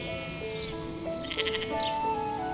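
Sheep bleat as they graze in a pasture, with a few short cries rising over a steady, gentle melody.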